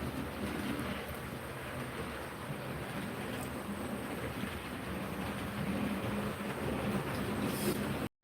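An HO scale 1:87 model train runs on a rooftop-room layout, giving a steady, even rumble and rattle of small wheels on track that carries on without a break, with a faint high hiss above it.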